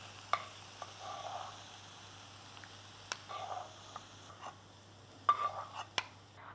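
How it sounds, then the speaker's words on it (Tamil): Tulsi chutney is scraped from a pan into a bowl: scattered spoon clicks and taps with short bursts of soft scraping over a quiet low hum, close by, with no talking. "ரெடியான இந்த சட்னியை வந்து ஒரு பவுலில் ட்ரான்ஸ்ஃபர் பண்ணிக்கலாம்."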